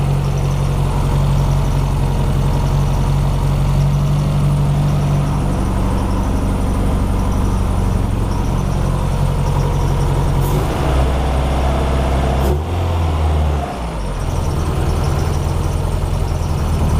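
A Honda H22 engine idles loudly and steadily with a persistent belt squeal over the low rumble, followed by a short dip and change in tone near the end.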